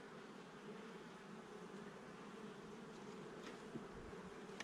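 Honeybees buzz steadily around an open beehive with fresh comb on light-colored foundation, a dense, continuous close-up drone with a few louder passes near the microphone.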